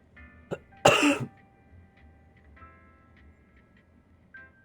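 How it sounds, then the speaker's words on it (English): A single sharp, loud cough sounds close to the microphone, preceded by a small throat noise, then a quiet room with faint ticking clicks and no speech. "You guys didn't hear me fucking cough then, did you?"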